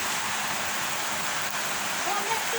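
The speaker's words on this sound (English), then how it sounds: "Rain is not a pretty thing. Heavy rain, heavy." Heavy rain pours down in a steady, dense hiss, close and continuous for the whole stretch, with no voices heard.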